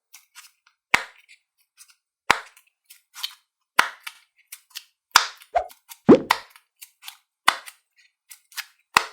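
A homemade Simple Dimple fidget toy made of 2 mm foam sheet is pressed bubble by bubble, giving crisp, close popping clicks in quick clusters with short silent gaps between them.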